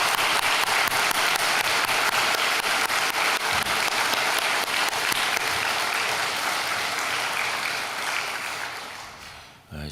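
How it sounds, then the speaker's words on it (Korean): A church congregation applauds warmly for a youth mission group after a special praise performance at an early-morning prayer service, a dense, sustained wash of clapping that fades out near the end. "뜨거운 박수로 한번 격려해 주시기 바랍니다."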